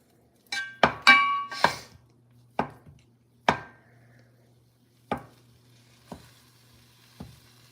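A knife chops pork sausage on a board in a quiet kitchen, with a quick cluster of sharp taps followed by several slower, widely spaced cuts over a faint background hum.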